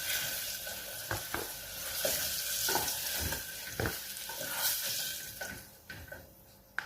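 Potato and papaya pieces fry golden brown in hot oil for a mutton curry, a steady close sizzle broken by repeated scraping stirs of a spatula against the pan.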